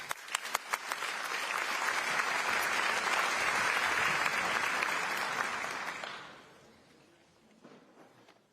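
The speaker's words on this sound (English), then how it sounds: "please a round of applause for Professor Barroso, Board Chair of Gavi, the Vaccine Alliance" At the Gavi vaccine summit, an audience applauds Professor Barroso, Gavi's board chair. A few sharp early claps swell into full, even clapping that tapers off over the last couple of seconds.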